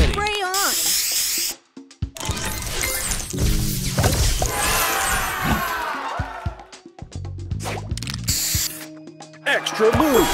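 In the Match Masters puzzle game, a spray booster effect fires: bursts of hissing spray and clattering, ratchet-like mechanical whooshes and crashes, loud and busy, broken by a brief silence.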